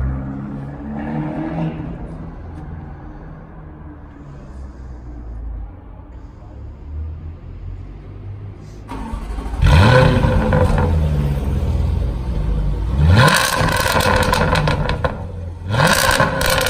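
A Range Rover SVR with a titanium exhaust starts with a sharp roar, then revs loudly and deeply several times close by, after a stretch of low idle-like rumble.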